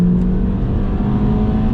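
A 2008 Volkswagen Golf GTI MK5 engine pulls steadily under acceleration from inside the cabin, a continuous low drone and rising whir filling the whole stretch without any talk.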